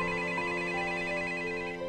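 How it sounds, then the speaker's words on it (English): A telephone rings steadily with a sustained electronic ringtone, a continuous tonal trill held for the whole moment, close and clear with no talk over it. "But late that evening, the phone rang."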